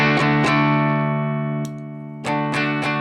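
Electric guitar strummed through a JHS Superbolt pedal on its lower gain setting: a few sharp chord strikes ringing out and sustaining, with a brief pause between bursts.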